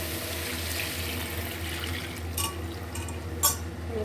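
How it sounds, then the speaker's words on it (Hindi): Milk pours into a cooking pot while carrot kheer is being made, a steady, even liquid rush with a low hum underneath and a couple of small splashes, with no talking. "अब ये देखिए मैं इसके अंदर दूध डाल रही हूँ।"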